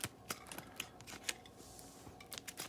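Scissors snip the corner off a paper seed packet of mammoth dill, giving a few sharp, close clicks and crisp cuts spaced through a quiet indoor moment with no talk.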